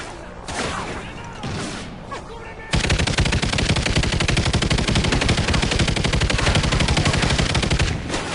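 Loud, rapid automatic gunfire from Call of Duty: Ghosts roars in a dense, unbroken burst lasting several seconds, after a short stretch of quieter game sounds and voices.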